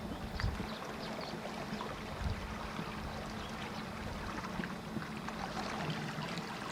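High water rippling in a stream at night, a steady rushing, burbling flow heard alone and fairly close throughout.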